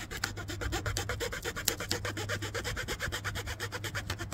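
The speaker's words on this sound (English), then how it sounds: "not only is it sawing really well, but it's leaving this fine sawdust" Rapid, rhythmic back-and-forth sawing through wood with a Takumitak Escort TKF213SW knife, a steady rasping stroke repeated many times at close range, leaving fine sawdust.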